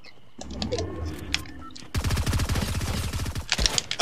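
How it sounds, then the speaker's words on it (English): Rapid-fire SMG in Fortnite lets out a fast, loud automatic burst lasting about two seconds, after quieter game sounds and scattered clicks. "if you don't get good damage with the rapid-fire SMG"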